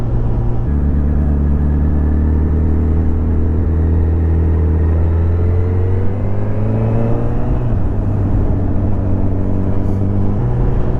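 Honda Hornet 1000SP motorcycle engine droning steadily while riding around a low-speed roundabout, with a constant low rumble whose pitch dips and rises gently as the rider slows and pulls away, close and loud throughout.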